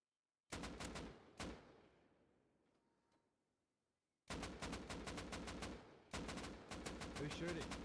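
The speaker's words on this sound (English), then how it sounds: "Who's shooting?" Gunfire in the survival video game Rust, two single loud shots followed by a quiet stretch, then rapid bursts of automatic fire that continue to the end.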